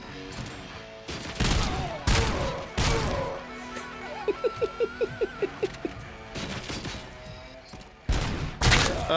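Gunfire in RoboCop: Rogue City: several loud, sharp shots spaced apart, plus a quick rhythmic burst of rapid, lighter pops in the middle, over a low game background.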